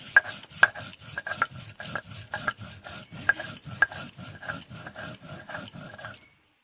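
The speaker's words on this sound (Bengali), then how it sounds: "এখন আমি ধনে জিরে আদা বেটে নিচ্ছি।" Coriander, cumin and ginger are ground on a grinding stone with steady back-and-forth rasping strokes, a regular rhythm of gritty rubs about twice per second, close up, stopping abruptly at the end.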